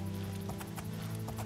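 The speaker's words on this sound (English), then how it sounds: "Alright, so we ride my horse" A ridden horse's hooves in the game Oblivion, a quick run of soft, regular clip-clop steps over a low, steady game drone, with no talk.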